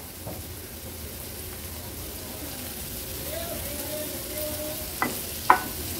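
Chopped kantola (spiny gourd) goes into spices frying in oil over a medium gas flame, giving a soft, steady sizzle with a couple of sharp utensil clicks near the end.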